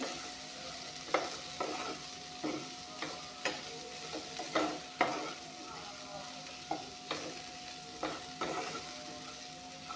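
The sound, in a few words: frying and stirring raw jackfruit curry in a pan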